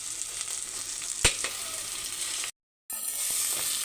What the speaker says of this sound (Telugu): ఇందులో మనం ముందుగా కడిగి పెట్టుకున్న పుదీనా వేసుకుందాం.